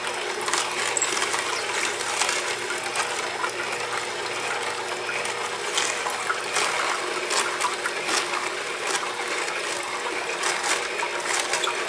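An Omega juicer works through vegetables, giving a steady close-up mechanical crunch and grind with scattered clicks and squeezing sounds, running continuously with no talking.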